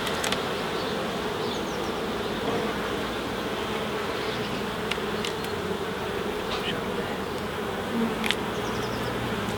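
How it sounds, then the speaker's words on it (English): Honey bees swarm around an open hive during a UK hive inspection, a dense, steady buzzing drone close by throughout, with a few faint knocks and clicks from frames and equipment. "I want to clear the bees off of there so they don't squash any."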